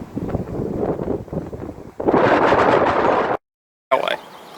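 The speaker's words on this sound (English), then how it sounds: "Poppy, why is it windy up here? Because wind." Strong wind buffets the microphone in loud, continuous gusts at a high, exposed spot near a disused railway, broken by a brief silent gap before the rumble returns.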